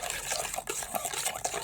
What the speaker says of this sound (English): water, put it in the metal bowl over here.